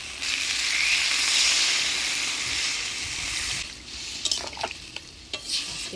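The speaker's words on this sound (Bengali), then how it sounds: "এবারে ঝোল দিয়ে দেব" Jackfruit and potato curry frying in a pan as gravy liquid goes in, a loud broad hiss of sizzling that settles and then gives way to scattered stirring clatters, with no voices.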